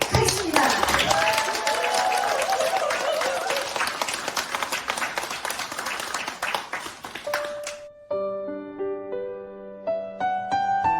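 An audience claps to open a community dramatic reading, with a dense, sustained burst of applause that fades out, followed by a short solo melody of bright, tinkling notes.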